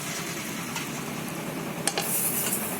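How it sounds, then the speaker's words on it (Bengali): Eggplant slices laid one by one into a very hot, oil-free wok, producing a faint steady hiss with a couple of sharp clacks from the spatula and pan near the end, close and quiet. "কড়াটাকে খুব ভালো করে গরম করে নিয়েছি এবার আমি এক এক করে বেগুনগুলোকে দিয়ে দেব"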